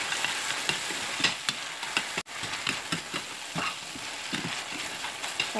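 Chopped tomatoes sizzle and spit in a hot pan for a vegetable pasta, a continuous close frying hiss with irregular stirring scrapes and soft clicks throughout.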